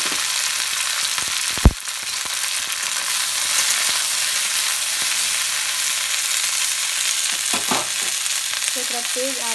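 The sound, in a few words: okra frying in a pan with cumin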